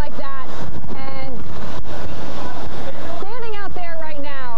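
Hurricane Laura's wind roars loud and constant at landfall on the coast, battering the microphone while someone talks over it.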